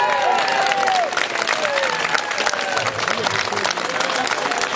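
An audience at the 2012 reunion of Tam High's class of 1962 applauds loudly and steadily, with cheering and overlapping voices riding on top of the clapping throughout.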